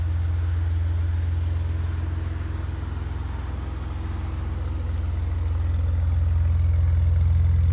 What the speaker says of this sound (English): Those exhausts are on sport mode right now.